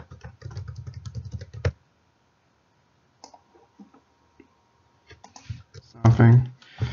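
Rapid keystrokes on a computer keyboard as a password is entered, a quick burst of clicks at the start and another near the end, close, with someone speaking between them.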